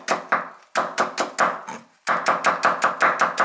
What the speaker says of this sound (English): now let's chop spring onion